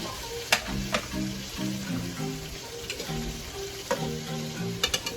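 A pot of Jamaican oxtail sizzles steadily while a utensil stirs and scrapes it, with a few sharp clinks against the pot, heard up close.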